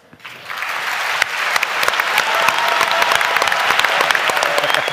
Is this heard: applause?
yes